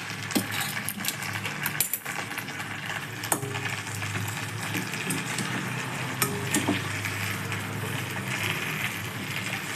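Spiced orange rice for Kashmiri pulao being stirred in a hot pan, with steady sizzling and frying beneath repeated scraping and clinks of the spoon against the metal, close and continuous, without talk.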